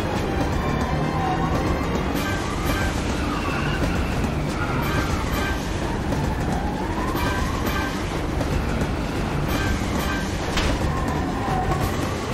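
A train in Final Fantasy VII picking up speed, with a steady loud rumble of rail noise and a rising, wavering mechanical whine layered over the constant clatter.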